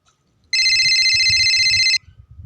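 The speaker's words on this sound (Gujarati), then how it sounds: "આ સગન નો ફોન" A telephone rings loudly in one continuous electronic trill lasting about a second and a half over a low background murmur, then cuts off abruptly.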